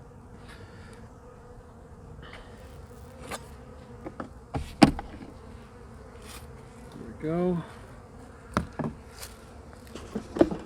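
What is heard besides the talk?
honeybees buzzing around hive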